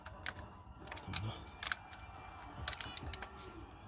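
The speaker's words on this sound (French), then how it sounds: "je vais prendre le gros cliquet. Là, dernier serrage." A large ratchet clicks in short bursts while tightening a turbo bolt on an Opel Astra H 1.7 CDTI, close and crisp metallic ticks separated by pauses, with faint handling noise.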